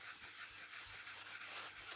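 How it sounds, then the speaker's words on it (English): Steady, faint scratchy rubbing with a brisk back-and-forth rhythm, fine steel wool scrubbing shellac off a wooden surface up close. "it should give a sort of a soft sanding effect, and also scrub off the shellac"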